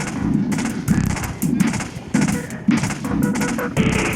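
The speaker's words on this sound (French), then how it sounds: "il y a encore une tour de défense mitrailleuse. On va l'attaquer." Rapid gunfire from units attacking a machine gun defense tower in the strategy game Warzone 2100, a loud steady stream of rattling shots with repeated heavier thumping bursts roughly every half second.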